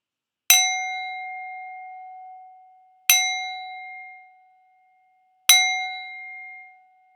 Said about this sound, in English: That's my Buddha bell.